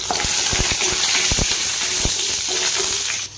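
Moong dal frying in hot oil with panch phoran and bay leaf gives a steady, loud, close sizzle, broken by a few sharp pops and clicks.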